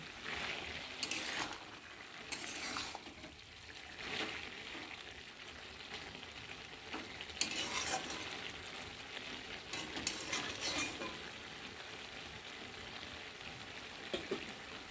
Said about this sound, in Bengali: আমি এবার একটু ঢাকাটা খুলব তো দেখো ফুটছে আর একটু আমি নেড়ে দেবো